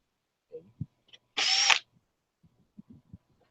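A power drill whirs in one short, loud burst, with soft clicks and handling knocks before and after.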